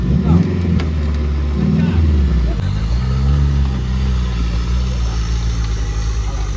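Off-road buggy (UTV) engine on a dirt trail, loud and close, revving in a couple of surges before settling into a rising drone under excited shouting voices.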